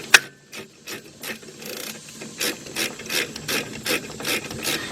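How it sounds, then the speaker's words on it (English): A ratchet wrench loosening a 14mm bolt on the brake hose of a 2001 Jeep Grand Cherokee Laredo, a quick run of close, evenly spaced clicking strokes with no talking. "Now up here to the front, where this 14mm bolt is at, let's take that off."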